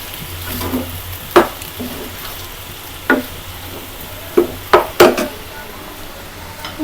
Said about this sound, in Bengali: চাল কুমড়া ভাজিটা করে নেওয়া হচ্ছে